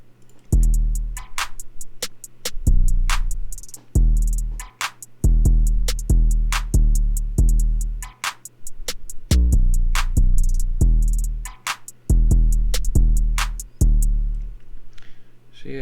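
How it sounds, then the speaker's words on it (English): Trap beat drums with an accent snare: punchy kicks, deep 808 sub-bass, crisp snares and rapid hi-hat ticks in a steady, loud looping pattern, alone without voices. "So with all the drums together, it sounds like this"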